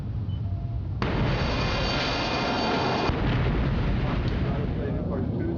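A torpedo detonation in the 1995 submarine video game Silent Steel comes in as a sudden deep, rumbling blast over a low background hum and keeps roaring for several seconds as a sustained, muffled boom.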